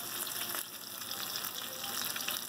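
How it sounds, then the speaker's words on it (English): A steady, crackling sizzle of plant-based egg frying in a hot pan, close and fairly quiet, with no voices. "It is frying up like an egg"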